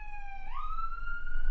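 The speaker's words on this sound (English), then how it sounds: "Sorry about the siren in the background." A siren wails steadily in the background, its tone sliding up once partway through, over a low hum with no speech.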